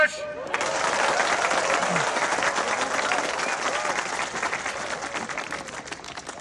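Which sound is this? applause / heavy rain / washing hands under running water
applause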